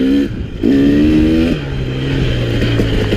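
A KTM 300 XC two-stroke dirt bike engine revs up hard, steps up in pitch, then drops back to a lower steady drone, loud and close with no voices.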